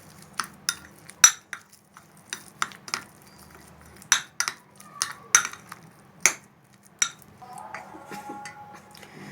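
A spoon clinks and scrapes against a bowl in irregular, sharp taps while cream is mixed in for a no-oven kunafa, close up and alone with no speech.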